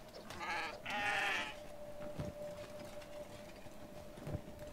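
Goats bleat in the video game Kenshi, two or three nasal calls clustered near the start and then fading, set over a steady in-game hum and a few soft thuds.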